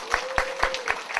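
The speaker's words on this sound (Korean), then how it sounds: "그리고 그 3명의 박수" A brief burst of clapping at a church sermon gathering, about five sharp, evenly spaced claps in quick rhythm.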